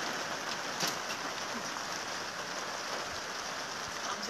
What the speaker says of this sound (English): please tell us if the rain is too loud